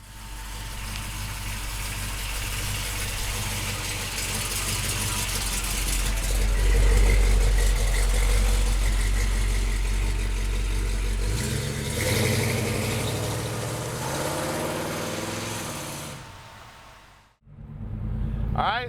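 A 1972 Chevrolet Chevelle with a 502 engine rumbles steadily from inside the cabin, swelling as it revs and pulls away, a deep continuous drone with shifting pitch, then a brief dip before resuming.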